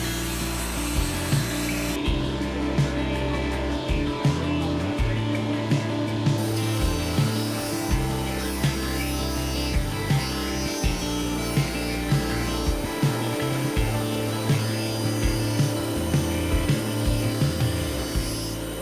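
Wood is cut into smaller pieces for a new balcony grill station, with a continuous machine drone broken by repeated rasping cutting bursts at a steady working rhythm, close by.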